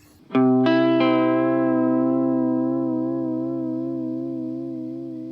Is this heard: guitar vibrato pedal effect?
yes